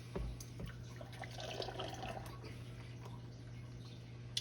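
Homemade ice cream mixture is poured back into a container, a soft continuous liquid trickle and splash under a low steady hum, close and quiet with no talking.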